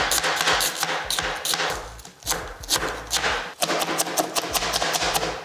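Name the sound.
knife cutting cabbage finely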